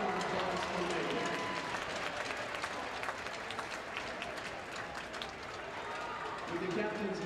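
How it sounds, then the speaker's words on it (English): Crowd applause fills an indoor college hockey arena, a dense steady clapping with cheers that holds loud throughout, with a murmur of voices mixed in beneath. "Let's give a big round of applause for Megan."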